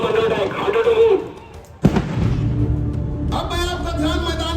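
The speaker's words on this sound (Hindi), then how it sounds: "दिल दहला देने वाला धमाका, प्रेशर हाउस को विस्फोट से उड़ा दिया गया" A staged explosion blows up a mock powerhouse during a CISF Raising Day parade demonstration: one sudden sharp blast partway through, with an announcer talking over it before and after.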